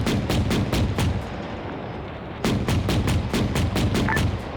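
Armor-piercing rounds fired in a military video game: rapid bursts of loud, close booming shots, a rhythmic volley, a brief pause, then another fast volley.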